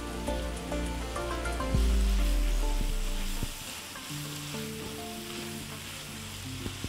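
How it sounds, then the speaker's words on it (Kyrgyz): Meat, onion and carrot sizzle and fry in a pan, a steady close crackle with occasional stirring clinks and a louder burst partway through. "Аны менен чогуу азыр биз сабизди дагы кошуп кууруйбуз."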